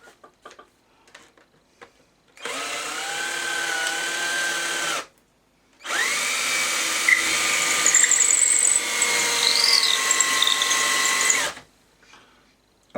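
Power drill that is running down, drilling gramophone parts: two sustained whirring runs of a few seconds each, the motor pitch sagging slightly, separated by a brief pause, with faint clicks and handling noises around them.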